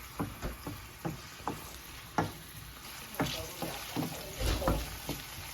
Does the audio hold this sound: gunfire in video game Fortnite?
no